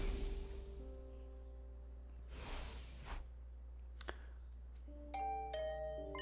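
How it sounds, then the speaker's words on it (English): A doorbell chimes in the video game The Hundred Line, its bright tones ringing out over soft game ambience with a couple of whooshes before it. "Okay, first time we got a doorbell."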